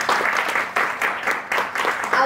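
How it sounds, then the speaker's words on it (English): Audience applauding for a football coach at a league launch event, a steady patter of many hands clapping in uneven surges, fairly close, with some voices under it. "Please give Coach a round of applause."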